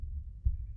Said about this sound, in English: You hear that heartbeat in the background?